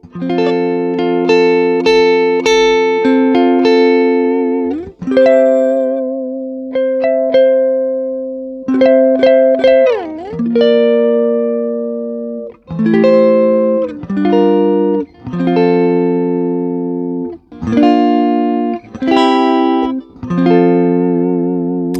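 Clean electric guitar plays a series of rich sustained gospel passing chords with short gaps between phrases, moving smoothly from one voicing to the next.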